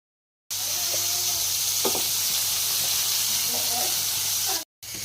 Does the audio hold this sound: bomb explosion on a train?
no